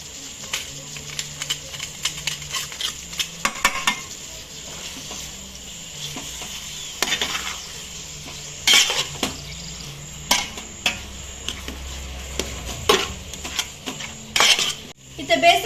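Chicken and ginger garlic paste are stirred in a pan, a metal spoon scraping and clinking against the cookware in irregular bursts, close up over a quiet kitchen background.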